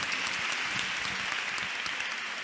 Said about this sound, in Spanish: despedimos a Juan Pablo con un aplauso